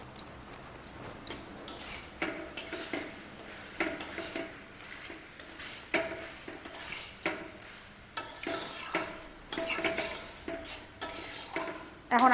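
A spoon stirs banana flower curry (mochar ghonto) in a pot just after garam masala goes in, Bengali village-style cooking: repeated scraping strokes over a soft sizzle of oil, close and fairly loud, no voices.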